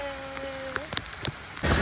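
Rain falls at Chandubi near Guwahati as a steady broadband patter with a few louder drops, swelling into a heavier downpour in the final moments.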